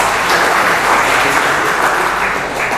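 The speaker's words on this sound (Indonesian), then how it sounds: "tepuk tangan untuk Ibu Amanda" Applause from an audience at a Bekasi labour union rally, a steady dense wash of clapping lasting a few seconds at full loudness with no talk over it.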